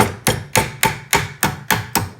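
A leather mallet strikes a metal wide band ring in a steady rhythm, eight close, crisp blows evenly spaced with short ringing decays, no voice.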